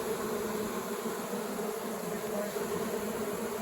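Honey bees from a swarmed hive buzz in a dense, steady drone around a cluster on a branch, loud and close, with no talking.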